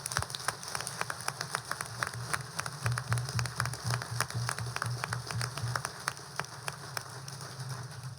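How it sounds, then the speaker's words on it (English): Audience applause at a ceremony, a steady wash of many hands clapping that holds evenly across the whole stretch, moderately distant and without speech. "Give yourselves a round of applause."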